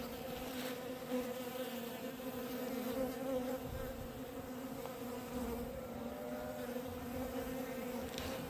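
Honeybees buzz densely and steadily around a hive whose queen has been killed. The drone is continuous and close, with no voices.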